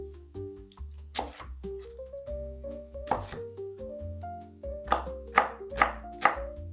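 Two small onions being chopped with a knife on a board, a handful of sharp, close knife taps, the last few in a quick rhythm, over soft background music.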